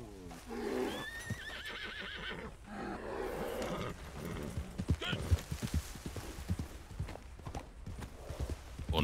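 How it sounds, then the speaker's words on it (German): Horse in the open world of Red Dead Redemption 2, hooves clip-clopping closer with a whinny or neigh near the start, over a busy game soundscape with roaring wild animals. "Erst das Pferd ranpfeifen,"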